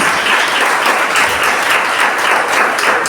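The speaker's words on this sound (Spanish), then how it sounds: "Dale ese aplauso al Señor." A church congregation claps loudly and continuously, a dense, even wash of applause filling the room with little else audible.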